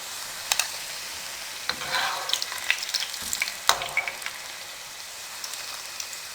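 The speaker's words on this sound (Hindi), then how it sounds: "अब इसी तरीके से हम तमाम फ्राई कर लेंगे।" Moong dal tikkis sizzle in hot oil with a steady crackling hiss, broken by scattered sharper pops and small stirring clatters, quiet and close, with no voices.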